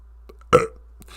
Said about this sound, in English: sorry, didn't mean to burp in your guys' ears.